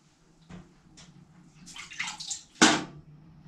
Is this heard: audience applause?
no